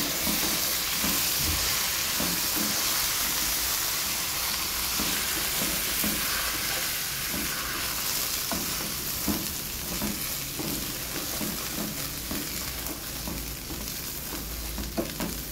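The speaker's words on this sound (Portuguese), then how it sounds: "Agora eu dou uma boa de uma fritada aqui no arroz, vou refogando ele até eu sentir que os grãos tá mais soltinho" Rice frying with garlic in a pan, a constant close sizzle and hiss broken by scraping and stirring clatter from the utensil, with no talking.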